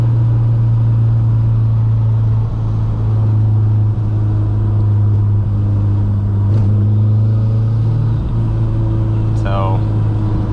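Mk2 GTS with a 16-valve turbo engine on the road, heard from inside the cabin as a steady, loud low engine drone with road rumble throughout, a voice talking over it.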